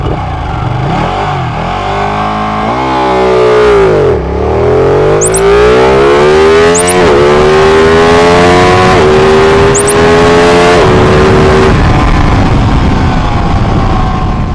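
A Ducati 959 sport motorcycle accelerating hard, loud and close, its engine screaming up through the revs with several quick gear changes before fading into wind noise.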